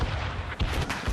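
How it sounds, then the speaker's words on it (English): Ship cannons firing volleys in a naval battle video game, a dense run of heavy booms with several stronger blasts rolling over continuous low rumble, loud and close. "They could fire many volleys."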